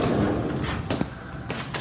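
A sliding glass door in a house is opened, giving a few soft rumbling slides and light knocks, with a sharper thump midway, close and moderately loud.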